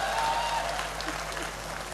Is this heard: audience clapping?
yes